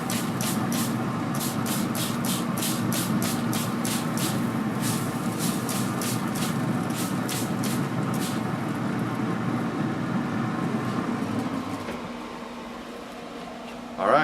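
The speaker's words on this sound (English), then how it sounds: "going to spray them down again" Rapid short bursts from a spray bottle hiss repeatedly as teriyaki ribs on a smoker are sprayed, over a steady low hum, then stop, leaving only the hum before a faint clunk.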